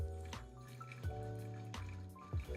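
Hot water poured over coffee grounds in a single full pour, a faint continuous liquid stream with soft gurgles and drips close by.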